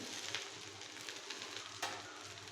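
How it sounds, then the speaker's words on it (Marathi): Okra (bhindi) frying in a pan hisses in a steady close sizzle with faint crackles, briefly interrupted by a soft stir. "भेंडी परतून मिक्स करून घ्यायची आहे भेंडी एक मिनिट परतलेली आहे"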